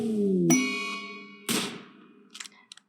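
A RimWorld video game notification chime sounds during a colony raid battle: two bright, ringing dings about a second apart, followed by a few faint, quick ticks as the tones fade.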